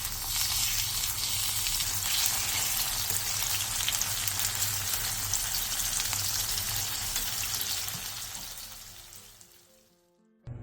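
Soft tofu pan-fries in oil for a Korean side dish, a dense, close crackling sizzle that holds steady, then fades away toward the end as the pan goes quiet.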